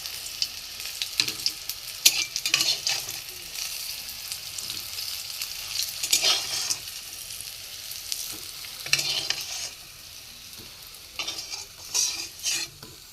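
Sliced bitter gourd fries in a pan with a steady sizzle while a utensil stirs and scrapes through it in recurring bursts. Near the end, the frying softens slightly between strokes.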